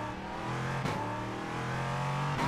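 A race car engine in the iRacing sim game drones at a steady high pitch, loud and continuous, with brief revs or gear shifts near the start and the end and no voices.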